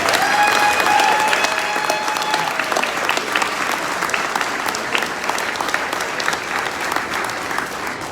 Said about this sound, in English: How about a big round of applause for Travis,